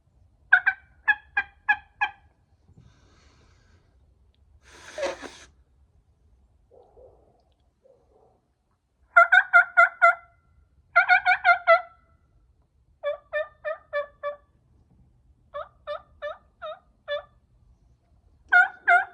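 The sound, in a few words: turkey call cutting, imitating turkey gobbles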